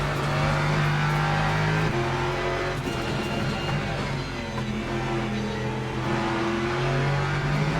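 Race cars in the sim racing game Le Mans Ultimate, including a Ferrari and a McLaren, roar loudly and continuously, with engines shifting pitch as they rev through gear changes.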